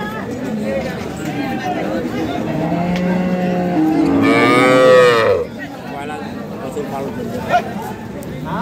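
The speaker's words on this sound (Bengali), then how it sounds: "এখানেও একটি গাভী গরু দেখছি।" At a rural cattle market, a dairy cow lets out a long, loud, close moo over constant crowd chatter and nearby voices, with a passing engine in the background.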